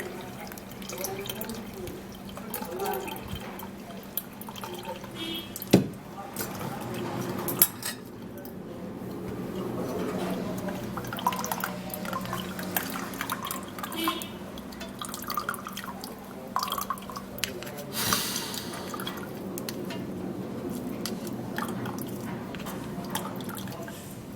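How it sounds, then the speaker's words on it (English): A herbal drink is strained, with faint dripping and trickling of liquid, soft clinks of utensils and vessels, and occasional light knocks in a quiet kitchen. "we're gonna be straining it up and removing all of the fiber"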